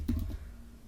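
Someone types on a computer keyboard in a short burst of a few soft, close key clicks that fade into a quiet low room hum.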